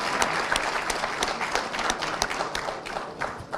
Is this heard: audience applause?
yes